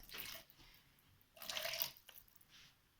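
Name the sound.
water poured into playdough mixture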